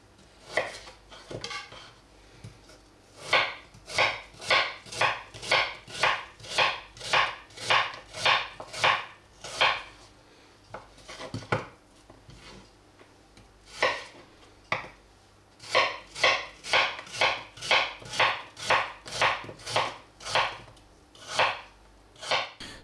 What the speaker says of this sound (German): Und wir schneiden dann die Hälften in schmale Scheiben.